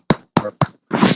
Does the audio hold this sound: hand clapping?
yes